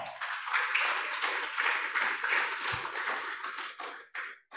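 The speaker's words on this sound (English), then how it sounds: "I want to all the audiences to give a big applause for us all." Audience applause at an international student conference, a steady wash of many hands clapping for about four seconds, fairly distant and moderate in level, fading out at the end.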